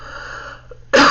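A woman gives one sharp, loud cough right at the end, after a quiet stretch with a faint steady tone.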